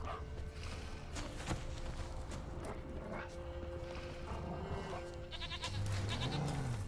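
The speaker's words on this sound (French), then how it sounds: "Ah, attends, une chèvre." In The Witcher 3, a goat bleats once near the end, low and drawn out, over steady game ambience and hoof-like clatter.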